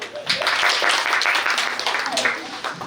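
A group of people clapping at a birthday gathering, a ragged burst of close hand claps with voices talking among them.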